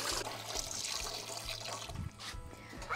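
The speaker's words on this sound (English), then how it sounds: "I need to start my water bath with hot water." Hot water runs steadily from a tap into a canning water bath pot, a continuous rushing fill heard close and alone.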